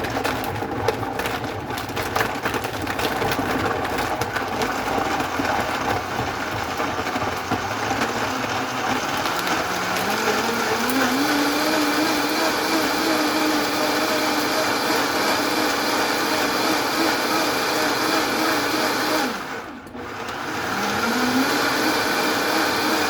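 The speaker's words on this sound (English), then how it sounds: "I like to start off the blender off really slow" Juicer blender motor whirring steadily for the whole stretch, starting at low speed and ramping its pitch upward, with a brief dip near the end before spinning back up; loud and close, no talk over it.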